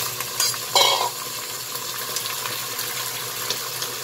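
Chicken goes into a pan of browned onions and fries while being stirred, a constant close sizzle with a brief scrape and splash as the pieces land.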